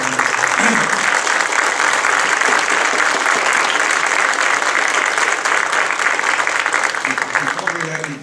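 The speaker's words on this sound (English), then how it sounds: "How about a round of applause for the candidates?" Sustained applause from the audience at a congressional candidates' forum for the 13th district, a loud, dense wash of clapping that fills the whole stretch and tapers slightly at the end.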